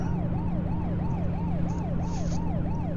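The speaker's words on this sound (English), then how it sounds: "That was pretty serious siren there." An emergency vehicle siren in the driving game American Truck Simulator wails in a fast, regular up-and-down sweep, loud and close over a steady engine drone.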